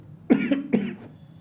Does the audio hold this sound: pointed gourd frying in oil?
no